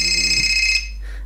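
An HTC Wildfire running Android 2.1 plays its incoming-call ringtone, a loud, bright electronic tone that holds for most of a second and then cuts off, leaving a faint hum.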